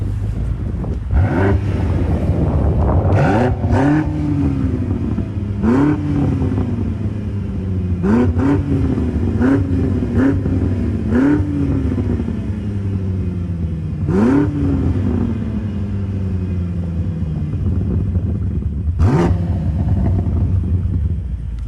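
A BMW M8 Competition Gran Coupé, a 2020 model, revs hard again and again during a launch, each loud rising howl dropping away before the next, over steady road and wind rumble.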